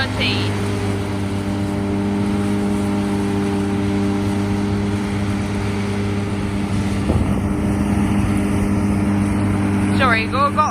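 A 2013 John Deere S680i combine harvester engine runs steadily with a strong low drone and a constant hum, while a person talks over the noise partway through.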